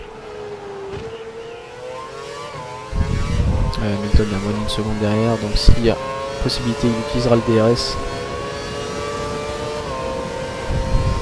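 Formula 1 car engines from the racing video game F1 2012 at the Sepang circuit, droning and shifting through gears with bursts of revving, heard beneath a commentator talking.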